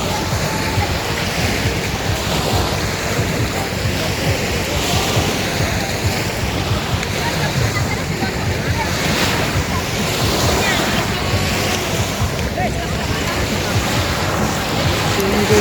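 Sea surf washes steadily at Sembawang Park beach near a shipyard, a continuous broad wash mixed with wind buffeting the microphone and faint background voices.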